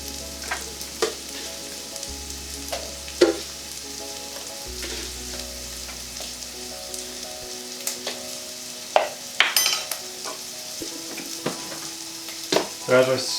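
Vegetables for a vegan cottage pie saute in a pan, giving a close, continuous sizzle broken by scattered clicks and scraping stirs, with a low steady hum fading out partway through.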